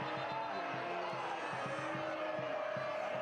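Stadium crowd at a Pittsburgh Riverhounds soccer match reacting in disagreement to a foul called on Pittsburgh, a steady broad roar of many voices with an announcer talking over it.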